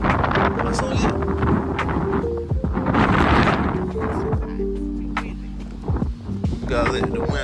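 Wind gusts buffet the microphone on a family fishing trip, a continuous rumbling roar that swells and eases, with a low hum of a boat or motor underneath.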